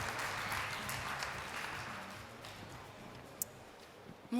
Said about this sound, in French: C'est parti, en musique et sous vos applaudissements